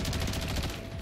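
Rapid automatic gunfire in Call of Duty Modern Warfare 3, a dense, loud burst of shots fired in quick succession filling the short moment with no pauses.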